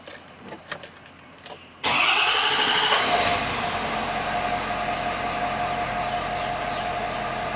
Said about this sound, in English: So let me start the truck up.